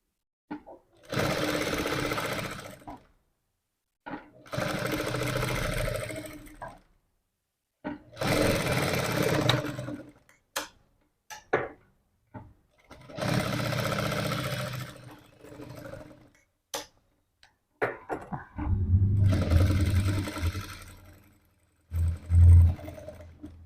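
An electric sewing machine stitching a blouse whirs in five or six separate runs of a few seconds each, broken by quiet pauses and small clicks as the fabric is handled, close and clear with no talk.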